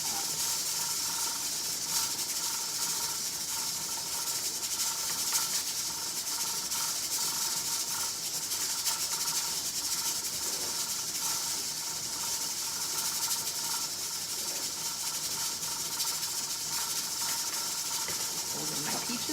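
A whisk scrapes and rubs steadily through a pudding mixture as diced peaches are worked in, a continuous soft hissing scrape with faint clicks, close and even throughout with no pauses.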